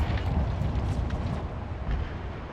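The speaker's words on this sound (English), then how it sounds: "Very nice big explosion there." A big explosion in a Total War: Shogun 2 naval battle, a loud rumbling roar that fills the whole moment and slowly fades, with no talking.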